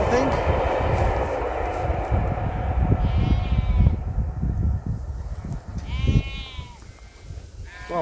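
Sheep bleat several times in quick succession close by, rising over a steady low rumble of a nearby steam train, with a voice speaking briefly in the background.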